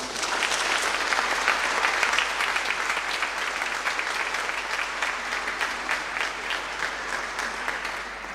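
Sustained applause from a large crowd fills a church during a Mass, dense and steady throughout, with a slight easing toward the end.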